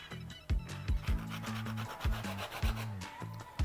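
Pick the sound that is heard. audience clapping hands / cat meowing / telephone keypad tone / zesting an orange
zesting an orange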